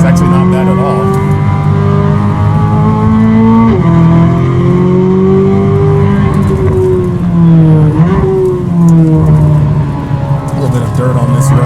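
A Corvette C8 Z06 fitted with an AWE SwitchPath exhaust pulls hard out of a corner on a canyon road, its engine note climbing steadily with brief dips at gear changes, loud and close, while a voice talks over it.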